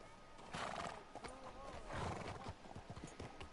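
In Red Dead Redemption 2, a horse whinnies and neighs over quick clip-clop hoofbeats. The sounds are moderately near but fairly quiet, with a voice talking over them.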